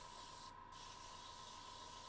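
A steady, even hiss of gunmetal spray paint coating a model runs throughout, close by, with a brief gap midway and a faint tonal hum underneath.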